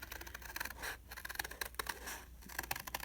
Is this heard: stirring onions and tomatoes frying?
no